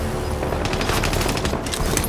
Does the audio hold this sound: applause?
no